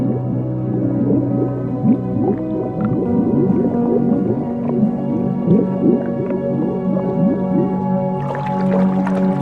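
Dolphins calling underwater, a dense tangle of rising and falling whistles layered with short clicks, continuous and fairly loud throughout, with a burst of sharper clicking near the end.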